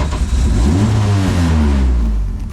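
A Mitjet race car engine at Barcelona roars loudly and close, a steady, rich mechanical drone with rising and falling revs filling the whole stretch, with no voices.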